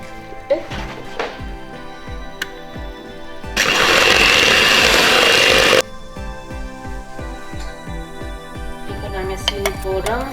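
A hand mixer whirs loudly through pancake batter with milk added, a steady dense drone lasting about two seconds in the middle, with kitchen clatter before and after.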